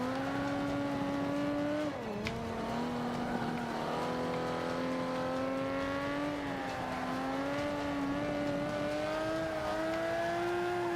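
A Ferrari 250 California in Forza 5 racing in Class D, its engine droning steadily with a smooth rising and falling pitch as it runs a lap, loud and continuous with no talk.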